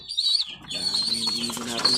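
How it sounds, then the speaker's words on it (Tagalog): Racing pigeons flutter and flap their wings close by, mixed with soft cooing and chirping from other birds in a loft, busy and continuous with faint voices in the background. "Yung ibon natin mga kalapatids."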